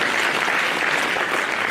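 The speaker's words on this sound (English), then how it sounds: "Let's clap once again," A conference audience at a savings and credit cooperative gathering in a lodge hall claps together, a brief, loud, even burst of applause with no talk over it.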